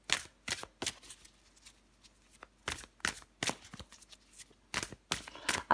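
Tarot cards shuffled and drawn by hand in a quiet room: a run of crisp, close riffling bursts and snaps, spaced irregularly, with no talking.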